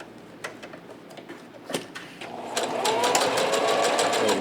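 A sewing machine stitches fabric for a face mask, starting with a few sparse clicks and taps before settling into a loud, continuous rapid whir of stitching close by.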